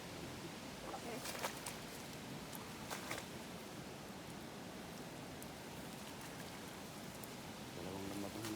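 Steady rain during a typhoon falls on a fishing spot, a dense continuous hiss of drops with a few louder splashes and faint voices now and then.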